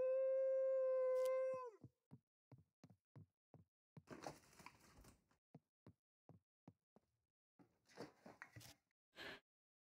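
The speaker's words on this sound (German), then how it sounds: "Was macht ein Wolf so nah hier an der Stadt?" A wolf near a town lets out a short, clear howl that trails off, followed by a long series of light, evenly spaced clacks and taps with a few scuffling bursts in between.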